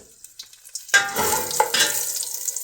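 Garlic and pimento seeds hit a pan of burnt curry and start sizzling, a sudden loud crackling hiss that flares up, then holds steady and close with small spits and pops, no voices.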